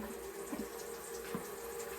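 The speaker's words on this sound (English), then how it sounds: "Just waiting for my faucet to warm up a bit." Water runs steadily from a kitchen faucet, a soft, even hiss and patter that continues throughout with a few small splashes, fairly quiet and with no voices.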